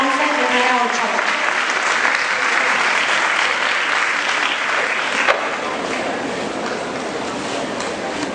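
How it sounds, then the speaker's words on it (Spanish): Loud, sustained applause from a conference audience welcoming Dr. Esperanza Herrera Ochoa, dense broadband clapping that stays steady for the whole stretch without fading. "Por favor, demos un fuerte, caluroso aplauso a la doctora Esperanza Herrera Ochoa."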